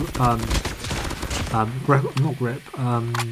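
A Groza assault rifle fires in a video game, sounding as rapid bursts of gunfire mixed under someone talking almost throughout.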